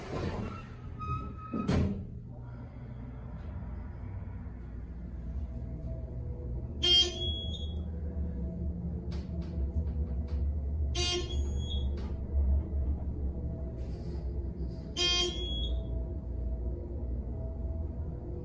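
An elevator in Hilton Head, South Carolina gives three short, sharp beeps spaced a few seconds apart over a low hum of machinery, with a soft buzz near the start.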